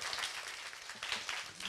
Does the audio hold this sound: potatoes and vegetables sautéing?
no